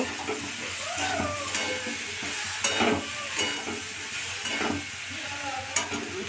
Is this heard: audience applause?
no